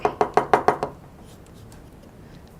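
A terrazzo craft mold is tapped five or six times in quick, even succession, close and crisp, then goes quiet before one more tap at the end.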